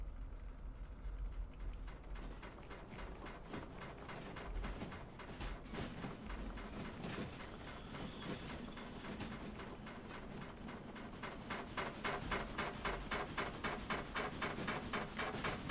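Steam locomotive hauling gondolas in the train game Derail Valley, a rhythmic chuffing that grows faster and louder toward the end over a constant rumble of the engine and cars.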